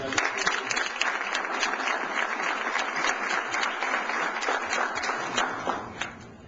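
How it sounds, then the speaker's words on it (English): Applause from an audience gathered in Jacksonville, a dense, steady wash of many hands clapping at full strength for several seconds before tapering off at the end. "I think we give yourselves a round of applause"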